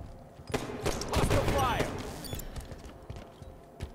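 Rifle fire from a DMR in the Halo 5: Guardians Slayer multiplayer match, with a burst of close shots and impacts around the middle, then scattered gunfire fading into quieter game noise.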